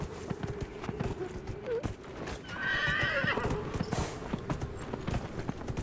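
In Dragon Age: Inquisition, a horse gallops with a rapid clip-clop of hooves, close and rhythmic, and a whinny breaks in midway.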